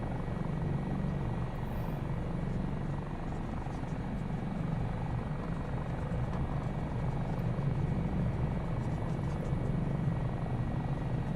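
Helicopter in Microsoft Flight Simulator 2024, a steady low rotor thrum and engine whine droning evenly throughout at moderate level, with no voices.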